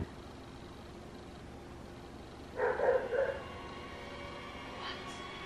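Distant dog barking in a short burst of two or three yaps heard at night in a quiet room, faint over a steady background hiss, followed by one fainter yip.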